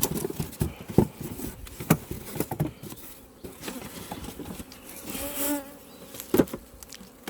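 Bees swarm and buzz close by, a wavering drone that rises and falls in loudness, with a few sharp bumps and brief rustles and no talking.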